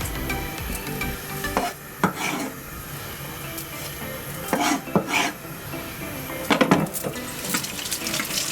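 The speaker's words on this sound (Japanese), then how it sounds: "これで玉ねぎを炒める。" Onions fry in lard in a pan, a soft continuous sizzle broken by a few louder scraping stirs and clatters, with splashy, water-like bursts; close by, no talking.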